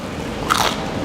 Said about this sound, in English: Whoa, hear that crunch?